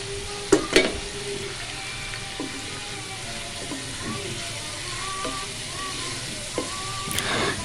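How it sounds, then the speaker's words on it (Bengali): Spices for a beef curry fry and are stirred in a pan, a steady close sizzle with scattered scraping clinks from a spoon against the pan and a couple of sharper knocks. "এখন আমি মশলাটাকে একটু ভালো করে কষিয়ে নেব।"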